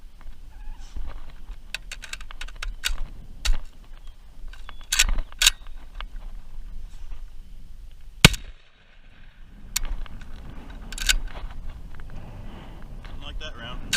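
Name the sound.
gunshots from test-firing a home-built gun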